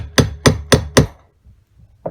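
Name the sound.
hammering a bushing into a walk-behind tractor carburetor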